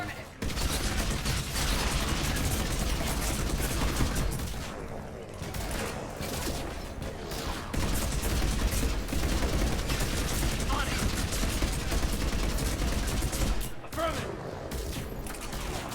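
Rapid bursts of weapon fire in Mass Effect 3 Legendary Edition, dense fusillades with mechanical clatter running almost the whole stretch, brief lulls between volleys, at moderate level.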